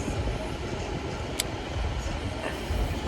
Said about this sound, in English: Train is coming in